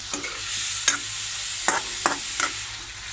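Tomatoes frying in a kadai, a steady bright sizzle punctuated by several sharp scrapes of a spoon stirring against the pan, close up with no talking.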